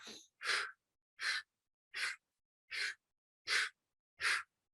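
Rapid heavy breathing exercise: seven forceful, evenly spaced breaths, each a short rushing burst of air, close and loud with silence between and no talking.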